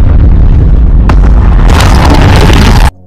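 A massive explosion from the Prometheus sci-fi film, a very loud booming blast that swells into a roaring burst for about three seconds before cutting off abruptly.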